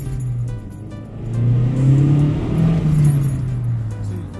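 A car launches hard from a stop with its stock air filter, the engine revving up loudly and climbing through gears, a steady close exhaust drone rising and falling over a few seconds.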